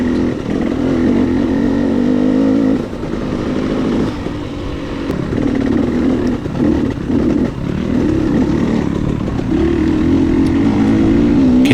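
A KTM 300 XC-W dirt bike races through a Pine Tree hare scramble, its engine buzzing and revving continuously up and down close by, with brief dips as the throttle is rolled off.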